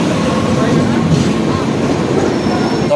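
A train rumbles through a busy railway station, with a loud, steady roar of rolling wagons and faint wheel squeal close by, and some voices mixed into the noise.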